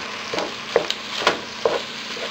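Ground beef browning in a pan for shepherd's pie gives a soft, steady sizzle, broken by a few scraping stirs at irregular intervals.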